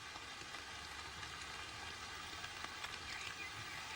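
Steady rain falls through a Russian forest, a soft continuous hiss with faint scattered drops, quiet and unbroken throughout.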